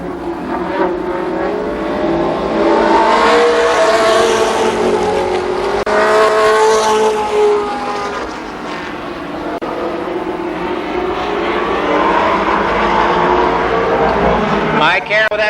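Race cars battle through a 10-lap race at Columbus Motor Speedway in 1993, engines roaring and swelling as the pack passes, while a commentator talks over the noise.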